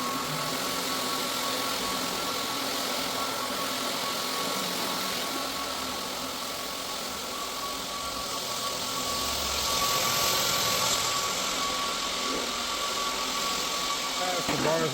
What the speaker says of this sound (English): is vacuuming the floor